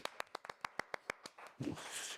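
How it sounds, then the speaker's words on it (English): Sharp, distinct claps, about a dozen in a quick irregular rhythm, fairly close and quiet, followed by a brief murmur of voices at the end. "Can we get a round of applause for Archie, please?"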